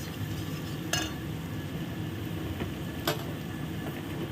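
A whole bulb of garlic frying in a pan, a soft low crackle and sizzle with a couple of sharp utensil clinks against the pan, fairly quiet and without voices.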